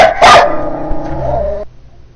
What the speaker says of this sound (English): you have a dog barking all night